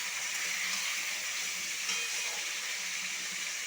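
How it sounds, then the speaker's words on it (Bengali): Chicken being slowly sautéed on a low flame in a pan, giving a steady, even sizzling hiss that holds at a constant level throughout with no talking. "এইভাবে আমি লো ফ্লেমে আস্তে আস্তে চিকেনটাকে কষিয়ে নেব।"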